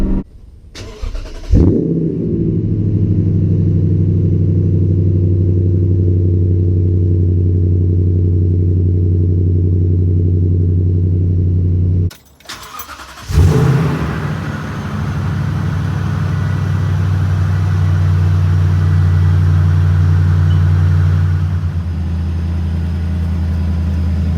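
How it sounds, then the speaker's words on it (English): A Toyota Tundra Platinum pickup's V8 cold-starts with a loud crank and settles into a deep, steady idle rumble, then shuts off and is restarted for a second long, throaty idle; no talking. "when you cold start this truck at 3 in the morning"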